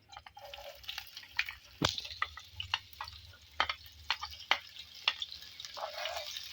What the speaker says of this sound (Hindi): ऑयल हमारा गर्म हो चुका है, अब हम इसमें प्याज शामिल करेंगे।